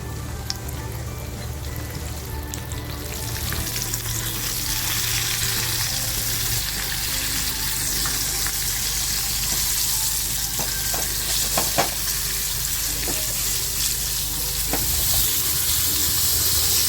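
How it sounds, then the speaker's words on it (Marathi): Fresh Bombay duck (bombil) fish frying in hot oil, a loud dense continuous sizzle and crackle that holds steady throughout, with a few faint clicks from utensils, close up and with nobody speaking. "आता जे एक एक बोंबील आहे ना ते मी याच्यात तळून घेते"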